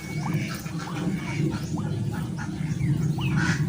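Laying ducks quack repeatedly in short, scattered calls over a steady low rumble of outdoor background noise in a rural garden.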